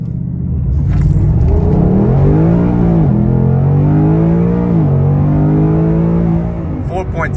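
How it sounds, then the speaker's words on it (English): A 2021 Ford Mustang Mach 1 accelerates hard, its V8 engine note climbing loudly through the revs, dipping at each gear shift, then fading as the throttle lifts. "You can hear the car, hear how it sounds, hear how it goes through the gears."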